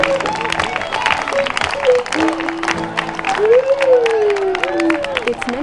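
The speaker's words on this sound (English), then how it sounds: "Everyone come up here and clap for the band." Audience applause and cheering for the band at a Marin Waldorf School gathering, with scattered clapping mixed with voices and rising whoops or whistles over steady crowd noise.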